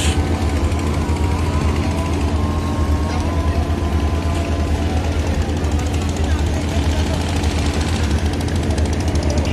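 Engines of river launches and trawlers at a busy ferry terminal drone in a loud, steady low rumble with a rapid knocking chug, while someone talks over it.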